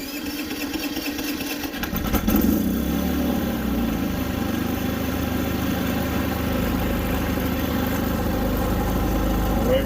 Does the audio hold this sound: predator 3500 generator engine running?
yes